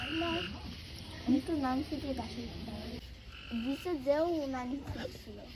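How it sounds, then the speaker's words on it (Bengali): Frogs croak at night in a steady, rhythmic chorus of close, loud calls that rise and fall in repeated bursts, with faint background noise between them. "ব্যাং অনেকই ডাকে রাতে"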